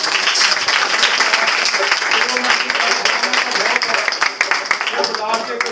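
A crowd at a gathering breaks into sustained applause, a thick wash of clapping that holds loud and unbroken for several seconds, with voices mixed in underneath.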